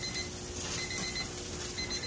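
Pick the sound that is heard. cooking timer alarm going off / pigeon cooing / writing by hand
cooking timer alarm going off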